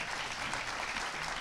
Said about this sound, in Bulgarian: Аплодисменти за Донка Ганева.